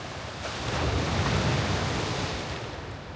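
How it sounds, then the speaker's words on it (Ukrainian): Ocean waves break and wash onto a shore on Tenerife, a steady close roar of surf and churning water with some wind noise on the microphone, no voices. "Отакий океанчик."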